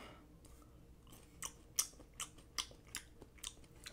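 Someone chews a chocolate-dipped cricket close to the mouth, a series of quiet irregular crunches roughly every half second against a faint background.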